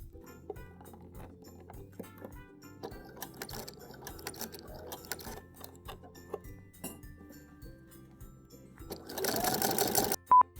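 A sewing machine stitches lining into a handmade fur coat in bursts of rapid mechanical needle rattling, pausing between runs, with a louder, denser stretch of stitching near the end.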